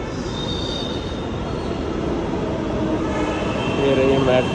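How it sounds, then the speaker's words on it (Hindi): A metro train pulls into a station with loud, sustained wheel squeal over a steady rumble of rail noise, the screech growing stronger toward the end as the cars arrive. "देखो सामने मेट्रो आ रही है,"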